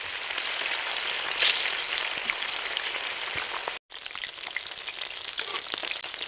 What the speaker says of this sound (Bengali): মাছে নুন হলুদ মাখিয়ে নিয়েছি, এবার তেলে ছেড়ে দেবো,